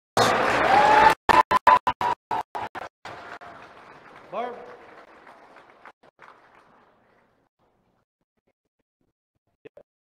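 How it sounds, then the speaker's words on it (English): Applause breaks out at a ceremony honouring RCMP officers at a First Nation gathering, with loud sharp claps at first that thin out and fade to silence, ending with a couple of faint stray sounds. "Round of applause."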